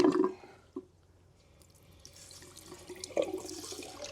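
Water from a zero-ppm water filter is poured out, a faint, close splash and trickle with a stronger gush at the start and another burst near the end.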